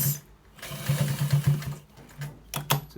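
A sewing machine stitches a trouser waistband in quick, close bursts of rapid needle strokes, stopping and starting twice with a short pause in between.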